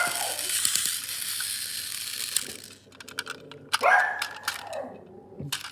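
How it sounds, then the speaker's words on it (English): A pet dog barks indoors in a few short bursts, over a steady mechanical whirring and clicking. "My dog's gone mad again."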